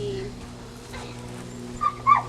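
A puppy in a front yard gives faint whimpers and a couple of short high yips near the end, over a steady background hum and low murmuring.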